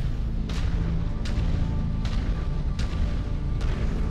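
Mech weapons in MechWarrior 5: Mercenaries fire at a Jenner, heard as four sharp booming shots spaced about a second apart over a steady, loud low rumble of machinery.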